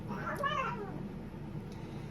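Household cats squabbling indoors, a short harmonic meow or yowl rising briefly near the start over a low steady room hum, then fading to quiet background noise.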